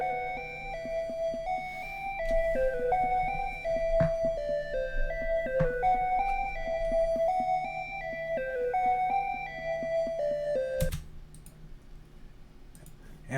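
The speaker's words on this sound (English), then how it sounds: "the counter melody to the ARP sounds like this." Synth counter melody to the ARP in an opium-style beat, a thin stepping lead line over a soft low pad with sparse clicky percussion ticks, moderately quiet and without voices.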